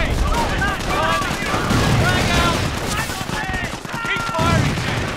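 Battle gunfire from Company of Heroes: Opposing Fronts, with rifle and machine-gun bursts crackling continuously through dense combat noise, with soldiers' voices shouting over it.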